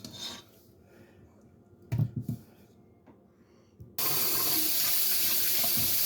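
Tap water runs as oxtail pieces are washed at a kitchen sink; a few soft rubbing and clunking handling sounds come first, then the faucet opens into a loud, steady gush that continues to the end.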